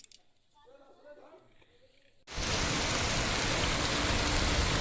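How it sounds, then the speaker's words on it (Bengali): Heavy rain on a street pours down in a dense, steady roar that starts abruptly partway through, after a quieter stretch with faint background voices. "আজকের দিনটা যে কি দিন, কি বৃষ্টি না হচ্ছে"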